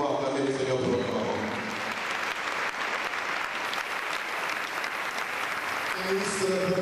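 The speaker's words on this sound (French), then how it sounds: "I will please ask the church to help me to clap our hands for our brother" A church congregation claps their hands together in steady, dense applause that fills the room throughout, with voices mixed in underneath the clapping.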